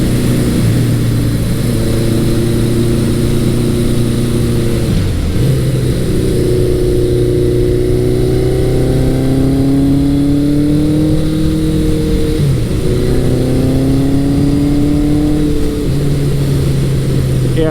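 A 1983 Suzuki GS1100 motorcycle engine drones loudly and steadily while riding on twisty roads, its pitch rising through gears and dipping at shifts.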